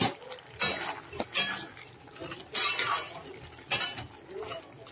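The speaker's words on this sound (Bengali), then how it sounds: "দিয়ে এবার জল দিয়ে দিয়েছি, আর মাছটাও দিয়ে দিচ্ছি, চুনো মাছটা ভেজে রাখা" Water and small fried chuno fish go into a hot cooking pan, giving a few bursts of splashing sizzle and clinking over a steady crackle, close and fairly loud, with no talk.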